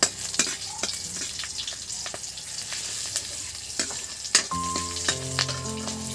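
Two green chillies frying in a fragrant spice paste in a pan for fish egg curry, with a steady close sizzle, scattered utensil clicks and stirring scrapes, and no voices.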